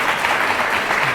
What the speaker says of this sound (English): Have a nice round of applause for doing a nice job